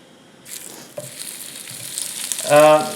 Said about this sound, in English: I'm going to put the calamari in here next